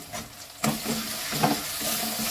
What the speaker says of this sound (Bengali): ভালো করে এটা আমি নাড়িয়ে নেব, মশলাটা যাতে গায়ে মিশে যায় সবের সাথে